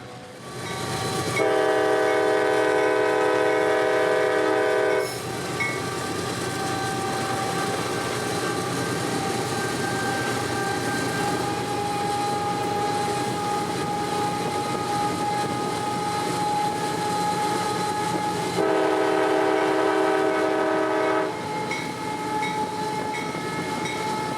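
CSX train G303 on the W&A line rolls past with a continuous rumble and clatter of railcars, broken by two loud, sustained horn blasts, one near the start and another late in the pass.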